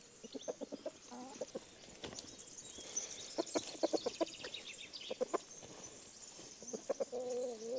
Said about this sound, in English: It's time to let the chickens out.